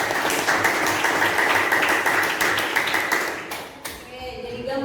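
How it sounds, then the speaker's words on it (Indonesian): Schoolchildren in a classroom clap for a classmate, a brisk burst of many small hands that holds steady for a few seconds, then thins out and fades at the end. "Tepuk tangan untuk temannya."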